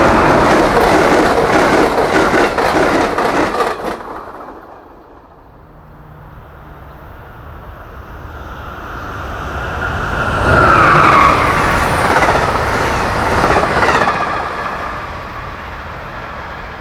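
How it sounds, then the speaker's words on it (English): An eastbound Amtrak Keystone train passes in two loud, roaring waves of rushing wheel and rail noise with a quieter lull between them, and a brief high squeal near the end. "Train 660, the second eastbound of the day,"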